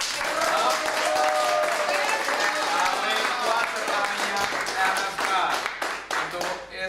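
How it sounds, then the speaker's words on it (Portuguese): Crowd applause at a community event in Curaçao, a dense sustained wash of many hands clapping with cheers and voices mixed in, steady and loud throughout. "Aplauso!"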